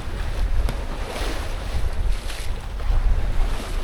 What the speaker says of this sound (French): Ça y est, le vent se calme un peu là.